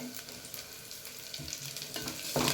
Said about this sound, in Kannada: ಈರುಳ್ಳಿ ಸ್ವಲ್ಪ ಫ್ರೈ ಆದಮೇಲೆ ಇದಕ್ಕೆ ನಾನು ಕರಿಬೇವು ಹಾಕ್ತಿದ್ದೇನೆ